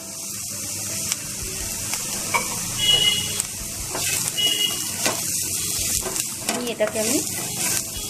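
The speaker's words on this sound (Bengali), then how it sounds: "আরো 2 মিনিট মতো ভেজে নেব, তাহলে আলুগুলো একেবারে সেদ্ধ হয়ে যাবে" Potatoes with grated ginger and turmeric sizzle steadily in a hot pan, a constant close frying hiss broken by scraping stirs and clinks of a spatula, while a voice speaks briefly over it.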